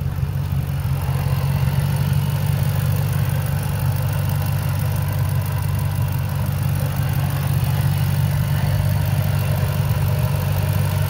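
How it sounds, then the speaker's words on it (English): A 2012 Ford Mustang Shelby GT500 V8 idles steadily up close, a deep, loud, even rumble that holds unchanged throughout with no voices over it. "That engine sounds amazing"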